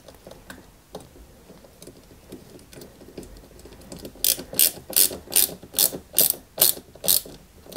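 Screws being driven with a screwdriver to fix the grille of a 1/8 scale Toyota Supra MK.IV model kit: after quiet handling, a run of about nine sharp ratcheting clicks follows in steady rhythm, close and fairly loud.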